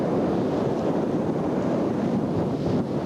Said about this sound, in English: Wind blows here all the time.